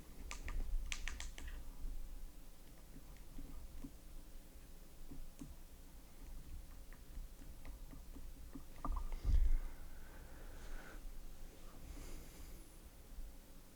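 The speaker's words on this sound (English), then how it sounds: "So we've entered our PIN" PIN entered on a Coldcard hardware wallet keypad, a scattered series of faint, close button clicks and taps over a quiet room hum, with no talk.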